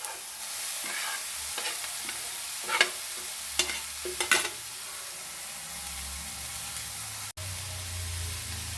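Chopped cauliflower leaves tip onto sautéed onions for a leaf thoran and are stirred in the pan, giving a steady low sizzle with a few scraping stir strokes near the middle and one sharp knock near the end. No one speaks.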